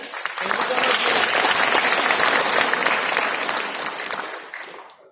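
An audience bursts into loud, sustained applause at a Vestige business meeting, the clapping swelling quickly, holding steady for several seconds and then thinning out and fading near the end.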